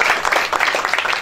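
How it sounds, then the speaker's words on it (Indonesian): Church congregation applauding during a Christian sermon, a brief dense burst of clapping at full volume. "Berikan tepuk tangan buat Tuhan."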